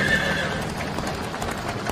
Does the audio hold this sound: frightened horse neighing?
yes